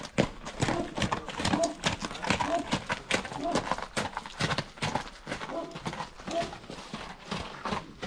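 Hooves of a draft stallion clip-clop steadily at close range during a 2021 Romanian pulling contest, with a dog and shouting people heard over the hoofbeats.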